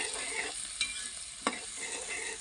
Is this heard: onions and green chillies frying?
yes